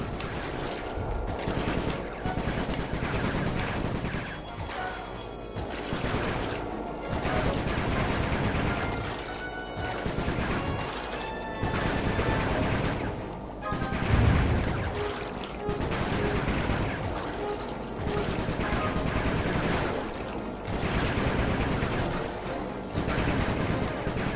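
Rapid gunfire in a shooting minigame from Sly 3: Honour Among Thieves, dense repeated bursts over constant mechanical game noise and music, loud and continuous without pauses.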